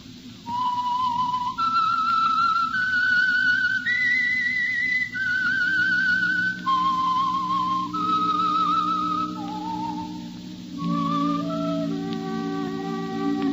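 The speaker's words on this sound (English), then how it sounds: "That whistle is your signal for the Whistler." A lone whistler performs the eerie theme signal of the Whistler radio show, a slow wandering melody of sustained pure notes rising and falling, clear and close over faint broadcast hiss.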